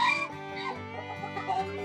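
A fancy-breed chicken on a poultry farm gives throaty, croaking clucks in a short run of repeated calls, close and fairly loud.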